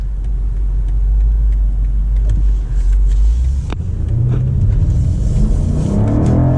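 A BMW M5 Competition LCI pulls away from a stop, its engine rumbling low and then climbing in a loud, rising rev as it accelerates hard, heard close from inside the car.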